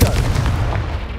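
Confringo fire-blast spell from Hogwarts Legacy erupting in a loud booming burst, a sustained explosive rumble with crackling that holds over about a second with no pause.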